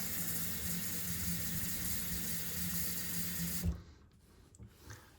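Water pours steadily into a soap refill bottle, a loud, even rush that runs for almost four seconds and then cuts off, leaving a few faint clinks and small movements.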